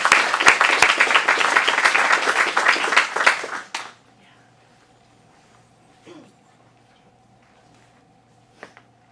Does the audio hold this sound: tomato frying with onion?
no